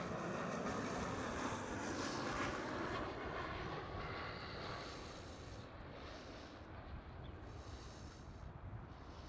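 A KLM Cityhopper Embraer E190 jet at Schiphol, Amsterdam, gives off a steady broadband engine roar that stays loud and even throughout, with wind buffeting the microphone.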